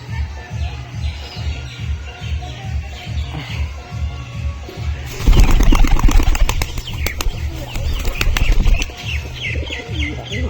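Fancy Lakkha pigeons coo softly in a steady rhythm, then a burst of loud, close wing flapping as one lands on a hand, followed by scattered rustling and more flutters.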